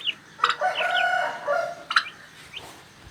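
Chickens in a large poultry farm shed cluck and squawk close by in a quick back-and-forth of short, bright calls, with no talking.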